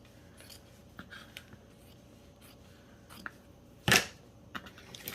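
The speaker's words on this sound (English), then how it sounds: "so I'm going to cut some of this down a bit" Scissors snip through paper while trimming pieces for a plain handmade journal, a few light close cuts ending in one sharp, louder snip, with soft handling rustles around them.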